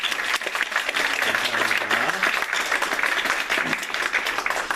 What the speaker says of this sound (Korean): 우리 시온 찬양대 격려의 박수 한번 하도록 하겠습니다